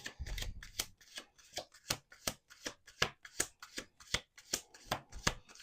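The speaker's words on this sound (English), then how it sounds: "Last shuffle." A deck of cards being riffle-shuffled up close, a rapid run of crisp papery flutters and snaps repeating steadily with no talking.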